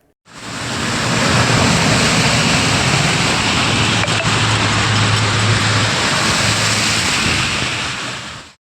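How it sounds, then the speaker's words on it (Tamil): Heavy vehicles and two-wheelers rush through a flooded expressway in heavy rain, sending up a loud, continuous roaring wash of splashing water that swells in and holds for about eight seconds. "எண்ணூர் விரைவு சாலையில் தேங்கிய மழைநீரில் கனரக வாகனங்கள் மற்றும் இருசக்கர வாகனங்கள் சீறி பாய்ந்து சென்றபோது அருவி கொட்டுவது போல் காட்சியளித்தது"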